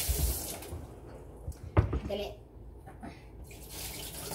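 Tap water runs softly into a kitchen sink where a fish is left soaking, coming in faint hissing bursts at the start and end, with a brief spoken word in between.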